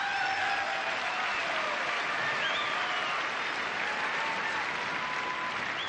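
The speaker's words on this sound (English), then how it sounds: "And there her mother in the crowd cheering" A gymnastics arena crowd at the 1989 World Championships applauds and cheers, a continuous broad roar of clapping with faint whistles and shouts mixed through it.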